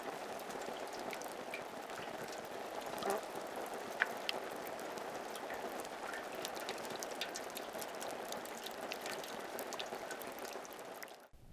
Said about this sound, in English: And then came the rain.